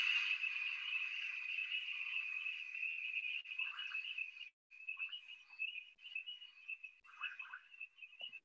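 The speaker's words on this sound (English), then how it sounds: "You've got some sort of high frequency insects, you got some frogs, you got some higher frequency squeaks." Night ambience in the Masai Mara: a steady high-pitched insect drone fills the scene, broken by scattered frog calls and short higher squeaks, all fairly faint and distant.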